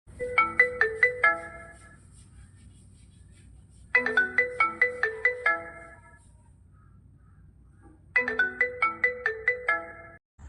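A phone ringtone plays for an incoming call, a bright melodic burst of rapid pulsing notes repeated three times at about four-second intervals with quiet gaps between, loud and alone.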